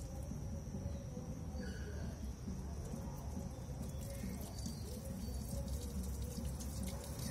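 Water streams steadily out of a car coolant hose being purged, a continuous splashing flow with a low rumble underneath while someone talks.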